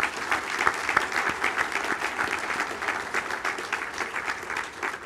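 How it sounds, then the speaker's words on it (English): A hall audience at a St. Vincent de Paul service celebration gives steady, sustained applause for the event staff, an even wash of clapping with no voices over it. "If we could give them a round of applause as well."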